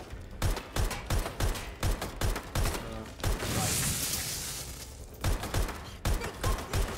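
AK rifle fire in the video game Watch Dogs: Legion, loud single shots and short bursts in an uneven rhythm, broken midway by a brief hissing pause before the shooting picks up again.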